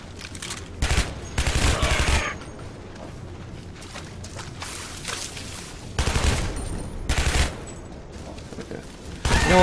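Pistol gunfire in the first-person shooter Shadow Warrior: loud bursts of rapid shots come in several clusters, separated by quieter stretches of game background noise.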